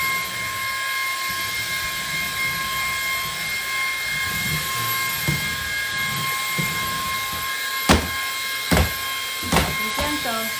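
A Ryobi cordless stick vacuum runs with a steady high motor whine and airflow hiss throughout, a few sharp knocks near the end, and quiet voices underneath.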